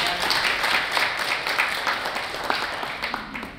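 Applause from a seated audience at a Korean health talk show on sleep apnea, thanking a neurology professor; a moderate wash of clapping that slowly thins and fades.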